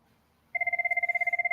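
A telephone starts ringing abruptly after a brief quiet moment, giving a loud, steady, rapidly pulsing electronic trill that continues to the end.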